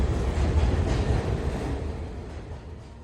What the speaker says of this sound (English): The train pulled away.